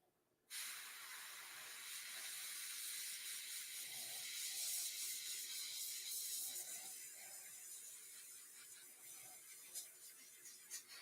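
An airbrush sprays paint onto an SBD Dauntless scale model, giving a continuous close, steady hiss that starts abruptly and runs without a break, its airflow wavering slightly in strength.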